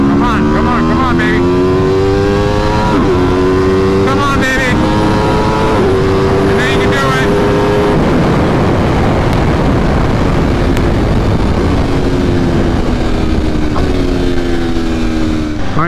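A 2022 Aprilia RSV4 Factory 1100 sportbike accelerating hard from 60 to 130, loud engine wailing up through rising revs with quick gear-shift breaks, steady roar and wind throughout.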